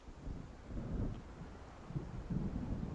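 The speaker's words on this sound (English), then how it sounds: "It seems there's a storm coming." Low distant rumbling of thunder from an approaching storm in the video game Alan Wake, with a windy, rain-like wash underneath; faint and muffled, no talking.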